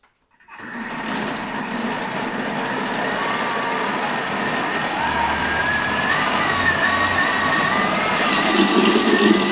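A Thermomix blending two ingredients at speed 9, whirring up after a silent start into a loud, steady motor whine that grows slightly stronger and rougher as it continues, with no voices.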